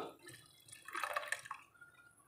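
Strained soup water is poured into a vegetable puree, a soft, brief splashing trickle that rises for about a second and fades out, quiet and alone.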